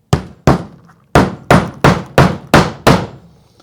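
A hammer drives a roofing nail through a snow bracket into an asphalt shingle roof: eight sharp, ringing blows in a quick, slightly uneven rhythm, loud and close, with no talk.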